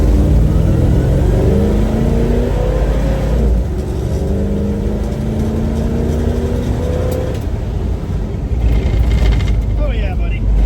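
A 1968 Dodge Dart sedan engine revving and accelerating, rising and falling in pitch through several gear pulls, loud and close from inside the car, with faint speech underneath.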